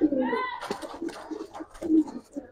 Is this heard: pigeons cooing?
yes